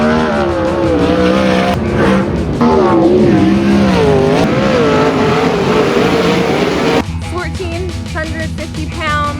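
950-horsepower sprint cars roar close by in a race, engines revving and wavering in pitch as they charge around the track, with a sudden drop into a rougher, stuttering engine note near the end.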